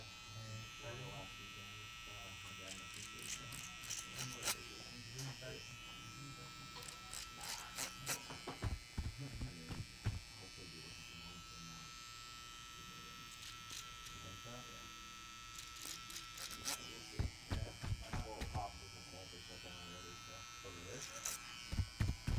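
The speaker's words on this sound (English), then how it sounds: "I'm going to hit this with a razor, so I just want to get a majority of the bulk off" An electric razor trims the bulk from a bushy beard, buzzing steadily up close across the whole stretch with repeated rough bursts as it passes through the hair.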